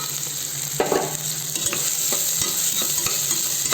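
Potatoes and tomato stirred in hot frying oil for a field bean kurma, a continuous sizzle broken by repeated scraping and clattering strokes of the spoon against the pan, close and fairly loud.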